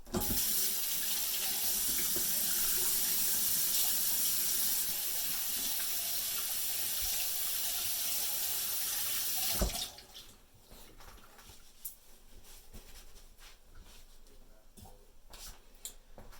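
A kitchen tap runs loudly in a steady close rush while hands are washed beneath it, then cuts off abruptly, leaving quieter handling noises and faint background sounds.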